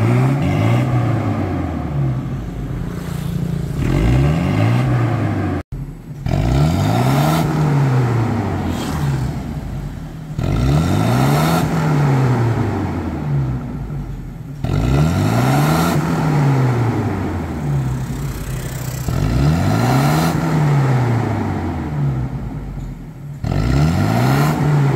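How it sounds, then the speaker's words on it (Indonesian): Toyota Kijang LGX engine revved hard after Blackcore tuning, rising and falling in repeated loud throttle sweeps roughly every four to five seconds, close up with no talk and a brief cut near the middle. "akan dilakukan pengegasan untuk menendang keluar kerak-keraknya"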